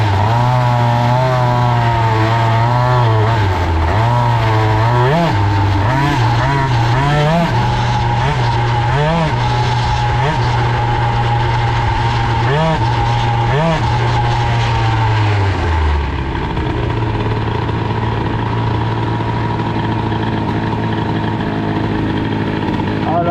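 An Airsal XT 77 moped engine fitted with a Malossi reed valve box and heavy variator revs hard in repeated sharp throttle blips, two-stroke whine climbing and falling for about fifteen seconds before settling into a steady drone, loud and close.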